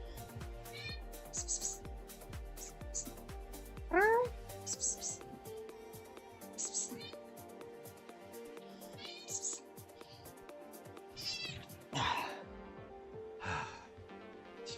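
A cat meows several times in short rising cries, interspersed with a person's voice and faint background tones, fairly close and moderately loud.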